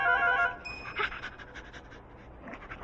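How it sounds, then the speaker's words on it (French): A dog pants in quick, steady breaths in a cartoon scene, fairly close and moderately loud, with faint background sound and no clear talk over it. "Yumi, qu'est-ce que c'est que ce chien?"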